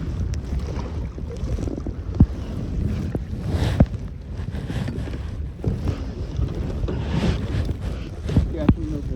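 Wind buffets the microphone while kayaking on open water, a loud gusty rumble with splashes and paddle knocks, as people talk intermittently over it.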